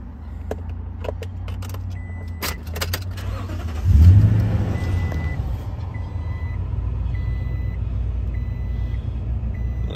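A Toyota Tundra pickup's engine cranks and catches, then settles into a steady idle, with warning chimes beeping repeatedly in the cab afterward.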